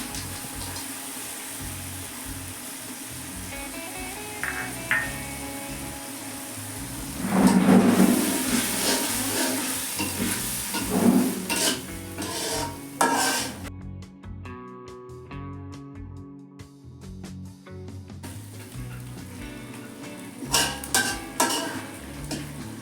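Chana dal is stir-fried with spices in a pan, with scraping spoon strokes, clinks of metal, and a light sizzle. The sounds rise and fall unevenly and fall briefly silent midway.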